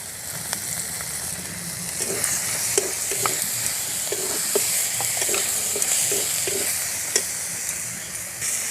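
Spice masala of salt, turmeric, chilli powder and cumin paste for chicken ghugni sautés in a hot pan, with a steady sizzle broken by repeated close spatula scrapes and taps in an uneven rhythm.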